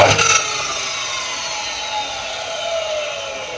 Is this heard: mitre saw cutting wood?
yes